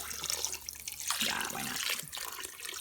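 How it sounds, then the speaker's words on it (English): Water pours into a pot of homemade chicken soup, a steady splashing stream that swells in the middle and carries on alone, close and moderately loud. "I'm also going to add some more water"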